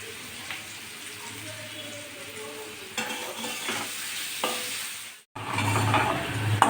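Potatoes sizzling in hot oil in a pan for a kalmi greens curry, with close, steady frying hiss and scraping stirs, a brief pause, then louder sizzling as stirring resumes.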